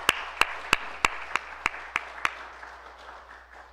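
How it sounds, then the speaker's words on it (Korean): A church congregation at an evening worship service claps in unison. About eight crisp, evenly spaced beats sound over a soft wash of scattered clapping that fades gradually. "격려의 박수 한번 보내주세요"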